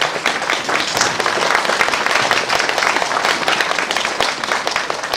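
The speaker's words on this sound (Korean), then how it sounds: "여러분 격려의 큰 박수를 한번 보내주시면 고맙습니다." A crowd at a commemorative ceremony gives loud, encouraging applause, many hands clapping briskly in a thick, sustained burst that stays strong from start to finish, with crisp individual claps poking through.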